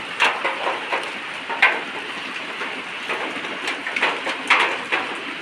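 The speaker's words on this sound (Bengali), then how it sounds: "সকাল ধরে বৃষ্টি পড়ছে সকাল থেকে তো মেঘলা ছিল বৃষ্টি শুরু হয়েছে" Steady rain falls outside on a cloudy day, a continuous broadband hiss with scattered louder drip and splash accents, moderately close and with no talk over it.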